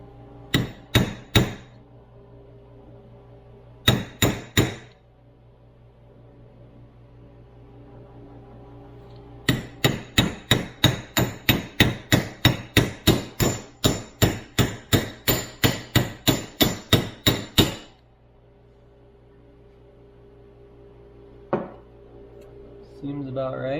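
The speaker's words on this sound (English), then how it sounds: "find a socket about that size and tap it on there" A hammer tapping a socket to seat a part during a Toyota FJ40 Land Cruiser steering box rebuild, sharp metallic knocks in short groups and then a long steady run of blows, close and loud.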